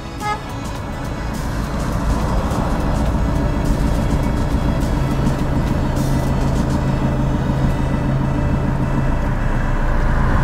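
A car rolls slowly backward in reverse gear during a driving lesson, its engine a steady close low rumble that builds slightly at the start and then holds evenly, with no one speaking.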